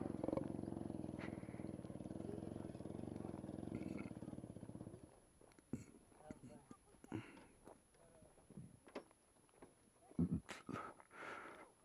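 A Yamaha RX 100 motorcycle pulls away in first gear in a Yemeni village. Its loud, steady engine drone fills the first five seconds, then drops away as voices and scattered clatter take over.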